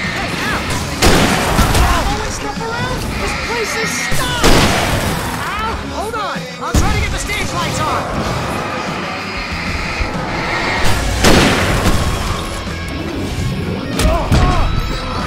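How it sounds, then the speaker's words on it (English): Fireworks in the video game Alan Wake Remastered, loud repeated booms and crackling blasts at intervals through a dense din of gunfire and effects, with game characters shouting over it. "I can set off four of the fireworks from here and help you out!"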